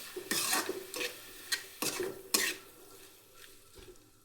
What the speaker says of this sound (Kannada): ಈರುಳ್ಳಿ ಟೊಮೊಟೊ ಎಲ್ಲ ಚೆನ್ನಾಗಿ ಮಿಕ್ಸ್ ಆಗಲಿ.